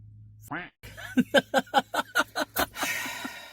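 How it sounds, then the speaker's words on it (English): Duck quacks in a video game, about nine loud, evenly spaced calls in a steady rhythm, following a brief voice-like sound at the start. "But I love the quacks. Quacks are good."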